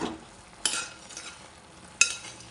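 Avial being stirred in a clay pot, heard as two sharp scraping strokes of a spoon against the pot with a soft sizzle between them, close and fairly quiet.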